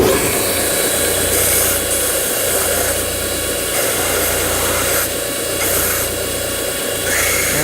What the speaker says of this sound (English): So I'm going to lightly round these edges on the sander.